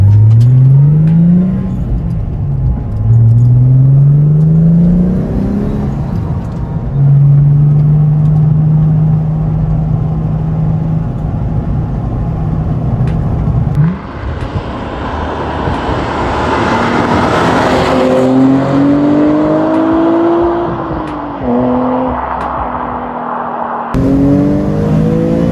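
Nissan 350Z heard from inside as it accelerates through several gears, engine note rising and dropping at each shift, then holding a steady drone before more revving and pulls, loud and close.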